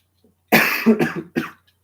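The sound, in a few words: cough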